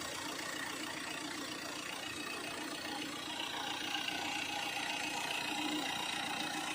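A Tata Indigo car engine idling, a low, steady, fairly quiet hum with a faint rhythmic beat that holds even throughout, with no talking.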